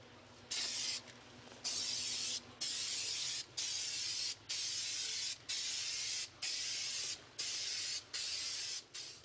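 Spray adhesive from an aerosol can being misted in a light, even coat onto the underside of an Airstream countertop, heard as about nine short, evenly spaced hissing bursts close by with brief pauses between them.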